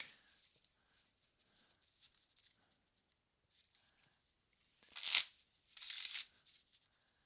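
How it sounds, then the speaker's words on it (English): A new deck of playing cards rustles softly as it is handled, then two loud quick riffle shuffles rip through close to the microphone. "that was the first shuffle of this deck"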